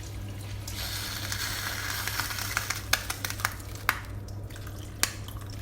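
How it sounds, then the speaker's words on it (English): Water poured from a cup into a pan of rice makes a steady close splashing wash, with a few light clinks and knocks of kitchenware scattered through. "for 1 cup of rice, we have to add 3 cups of water."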